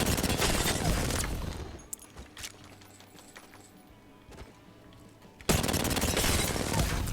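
Hip-fire bursts from a weapon in Apex Legends during crouch-spam aim practice, dense rapid shots at the start and again near the end, with quieter scattered clicks and footsteps between.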